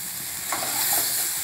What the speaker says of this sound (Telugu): ఇట్లా లిమ్ములో పెట్టి చక్కగా కలుపుతూ ఉంటే మంచిగా ఫ్రై అవుతూ ఉంటుంది ఈ విధంగా